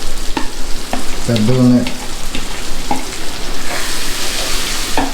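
Large Ravulapalem prawns hit a hot pan, giving a continuous close hiss and sizzle with scraping stirs, while a voice speaks briefly over the cooking.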